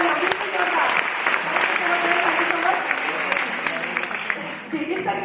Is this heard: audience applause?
yes